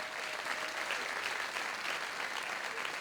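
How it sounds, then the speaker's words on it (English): An audience applauding at a wedding-themed stage show, dense steady clapping from many hands filling the room with no break. "Let's give them a nice round of applause"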